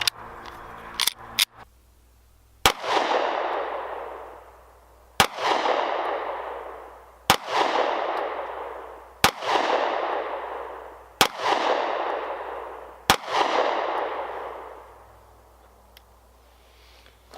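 A Taurus G2c 9mm pistol firing Remington 115 grain rounds at a target 10 yards away cracks out six loud, sharp shots spaced about two seconds apart, each trailing a ringing decay, with a few faint clicks before the first.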